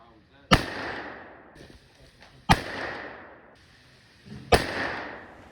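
A muzzleloader rifle loaded with 84 grains of Blackhorn 209 powder firing three sharp, loud cracks about two seconds apart, each trailing off in a long echoing decay outdoors, with no talking.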